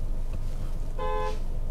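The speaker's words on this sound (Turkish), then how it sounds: "Kornayı da istersen sen çal abi." Car horn honking from an Audi Q2 35 TFSI or Cupra Formentor 1.5 TSI at a performance test, one clear toot of about a third of a second over steady road and engine rumble.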